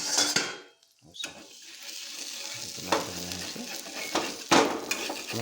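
A snack fries in a pan once the lid is lifted, giving a moderate sizzle broken by a few clinks and scrapes of a utensil against the pan, with no talking.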